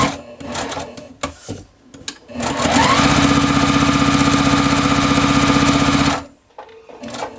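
A sewing machine runs a quarter inch seam on quilt block fabric, starting after a few scattered handling clicks and then holding a loud, steady rapid-fire stitching drone for about three seconds before stopping abruptly, close up, with no voices.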